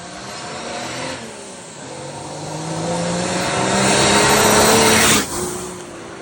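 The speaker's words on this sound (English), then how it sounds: "We'll throw some clips of the drive-bys." A pickup truck swapped with an OM648 diesel engine drives past, its engine note rising as it approaches and peaking loudly near the end before dropping away abruptly.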